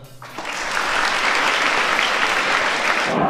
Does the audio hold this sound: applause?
yes